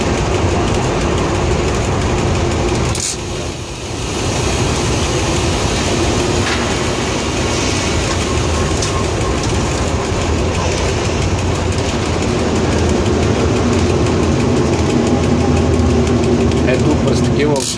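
A Bulgarian railway train pushes through snowdrifts more than a metre deep, giving a constant loud rumbling engine drone with rattling and faint clicking of the wagons, continuous and close, while someone speaks over it.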